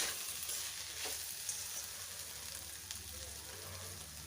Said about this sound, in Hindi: हम इसे अच्छी तरह से मिक्स करते हैं और अब मसाला ऐड करेंगे